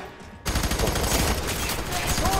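Gunfire in the shooter F.E.A.R.: a sudden loud burst of rapid automatic shots that begins after a quiet moment and rattles on without pause to the end.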